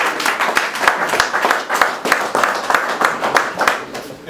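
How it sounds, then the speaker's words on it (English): Loud, close applause from a room of fraternity brothers at a Founder's Day gathering, dense overlapping claps with a quick uneven rhythm that holds strong for several seconds. "brothers, can we give them another round of applause"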